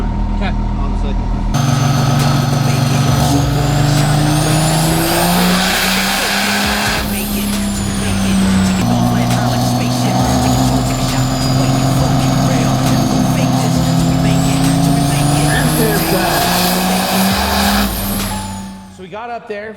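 A diesel engine roars under load on a dyno through a run, a sustained loud rising drone that dips briefly around the middle and then climbs again before cutting off near the end.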